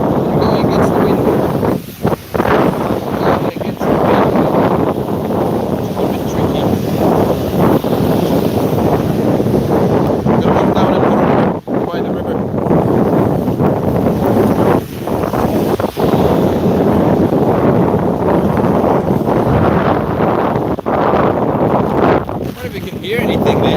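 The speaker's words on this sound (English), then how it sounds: "The wind is pulling the camera." Strong typhoon wind buffets the camera microphone outdoors in Ulsan, South Korea, a loud continuous roaring rumble with gusty surges and brief dips throughout.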